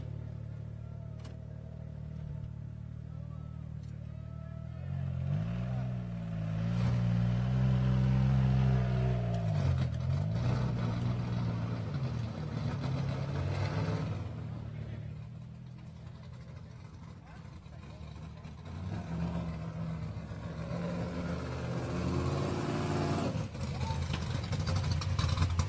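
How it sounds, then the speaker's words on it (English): A Baja 1000 off-road race truck, number 852, idles and revs at tech inspection with a deep, beefy engine rumble whose revs swell and fall, heard under a crowd and a talking announcer. "Beefy sounding truck here, number 852."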